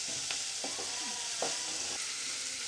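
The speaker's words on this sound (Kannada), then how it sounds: "ನಾನು ಈ ಹಂತದಲ್ಲಿ ರುಚಿಗೆ ತಕ್ಕಷ್ಟು ಉಪ್ಪನ್ನು ಕೂಡ ಹಾಕ್ಕೊಂಡು ಚೆನ್ನಾಗಿ ಮಿಕ್ಸ್ ಮಾಡ್ಕೊಳ್ತೀನಿ" Tomatoes with salt are stirred in a frying pan, sizzling steadily and softly as a spatula makes several distinct scraping strokes against the pan.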